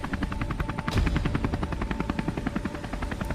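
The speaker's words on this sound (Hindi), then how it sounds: "वहाँ कुछ शिप्स रोबोट और हेलीकॉप्टर आ गए" Cartoon helicopters arriving with a steady, loud rotor chop, a fast even thumping pulse throughout with a brief swell partway through, no voices.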